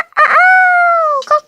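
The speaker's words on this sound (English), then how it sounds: "Rooster." A rooster crowing once, loud and close: a short clucking lead-in rising into a long sustained harmonic cry that tapers off, followed by a brief final cluck.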